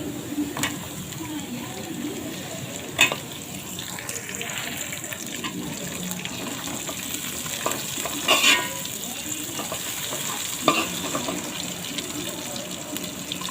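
Green chillies fry in oil with ginger garlic paste for a Kerala chicken liver curry, a steady close sizzle with occasional scrapes and knocks of a stirring spoon against the pan.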